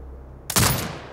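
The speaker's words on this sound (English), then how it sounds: "Exit binocular mode and command the turret to fire." A turret in the video game Sniper Ghost Warrior Contracts 2 opens fire after a brief quiet, letting off a sudden loud burst of rapid gunfire that rings out and fades within under a second.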